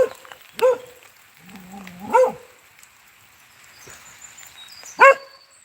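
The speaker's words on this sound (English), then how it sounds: "Got a couple of dogs." A couple of dogs give a few scattered, separate barks and yelps on an outdoor morning walk, close by with quiet gaps between them.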